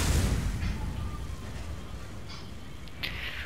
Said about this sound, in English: there's explosions happening everywhere.